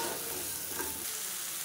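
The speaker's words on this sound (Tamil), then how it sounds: "இதையும் நல்லா வதக்கி விட்டுக்கலாம்" Tomatoes and shallots sautéing in a pan for a spicy shallot chutney, a soft, steady sizzle with faint stirring, heard close and alone for a brief moment.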